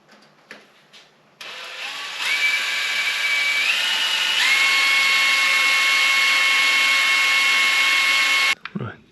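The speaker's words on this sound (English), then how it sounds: "I've drilled all the way through, a little bit offset, quite a bit offset to be fair, but it's all the way through." A power drill bores through a part of a Honda VFR800 motorcycle, starting after a few clicks and whirring in a loud, steady, high whine for about six seconds with a slight change in pitch, then stopping abruptly.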